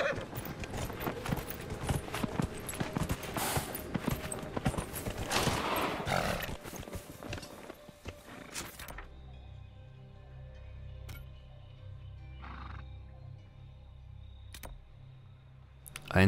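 Horse hooves clip-clopping at a steady pace while riding through desert terrain in Dragon Age: Inquisition, dense rhythmic hoofbeats under game ambience that thin out to a quieter, sparser backdrop partway through.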